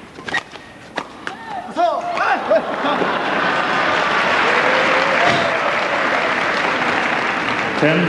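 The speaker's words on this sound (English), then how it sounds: "little round of applause for the umpire there" Badminton crowd at an All England men's doubles semi-final applauding the umpire, a few sharp claps and voices at first, then swelling into steady, full applause from the stands.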